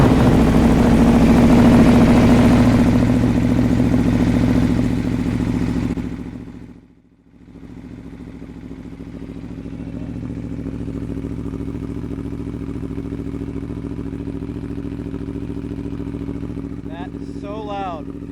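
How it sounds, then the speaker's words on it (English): Aprilia Tuono V4 1100 Factory with an SC Project SC1-R exhaust on a cold first startup, a loud close rumbling V4 idle that dips briefly, then settles into a steady lower idle with a voice near the end. "This is the first startup. Completely cold engine, so you're not going to hear any revs just yet."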